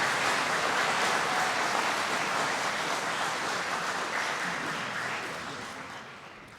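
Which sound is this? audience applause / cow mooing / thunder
audience applause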